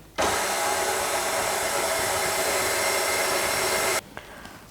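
An electric mixer runs at low speed through cheese Easter bread dough, a steady even whir lasting about four seconds before switching off abruptly, with a faint clink afterward.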